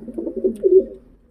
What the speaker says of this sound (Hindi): एक ये भबरी सी कबूतरी है